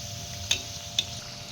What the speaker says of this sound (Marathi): आता याच्यावरती थोडं थोडं करून तेल आपण सोडायचं आहे यामुळे वरची बाजू आपली व्यवस्थित तळून होईल